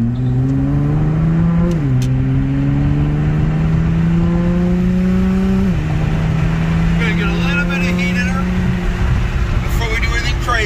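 A tuned 650 all-wheel-horsepower Nissan R35 GT-R accelerates hard from inside the cabin, its loud engine note climbing steadily through the gears with brief dips at each shift, continuous and dominant throughout.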